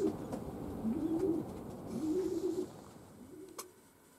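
Young pigeons coo indoors in soft, low repeated phrases, several rolling calls in a row that fade out near the end, with a faint click.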